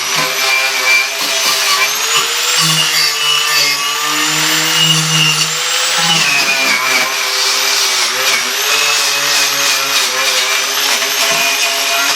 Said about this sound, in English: Now I'm grinding off the old spot welds that held in the battery tray